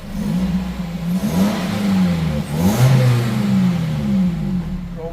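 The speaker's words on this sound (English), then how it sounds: "I'm going to start the engine for you quickly and let you hear what this car sounds like" A 2001 Toyota Celica engine revs up and falls back several times, a close mid-pitched engine note with no talk over it.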